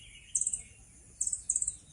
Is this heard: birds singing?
yes